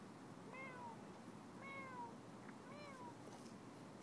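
A cat meows three times, fairly close but soft, with short pauses between each call over a quiet background.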